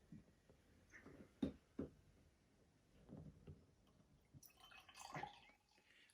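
Thick, sour-style Burley Oak x Drekker berry craft beer pouring into a glass, heard as faint, soft dripping and liquid splashes with a brief brighter fizzing burst near the end, all quiet and close.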